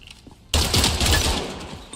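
Sniper gunfire in the tactical shooter game Spectre Divide, a sudden loud blast followed by a dense crackling burst that fades over a second and a half, with no talk.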